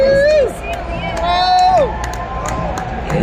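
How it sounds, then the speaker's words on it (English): Fans cheer and shout in a loud, lively burst at a championship tractor pull, with whistles and crowd noise around an announcer's voice. "You're going to have to cheer them on."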